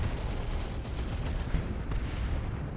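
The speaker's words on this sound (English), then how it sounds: "Looted tank taking pot shots at a librarian who gets a heal." Looted tank firing shots during a Dawn of War 2: Retribution 3v3 battle, heard as a dense, continuous roar of distant artillery and gunfire with low rumbling booms throughout.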